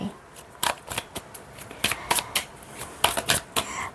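A deck of fortune-telling cards is handled and shuffled during a card reading, giving close, crisp papery snaps and riffles in irregular bursts throughout.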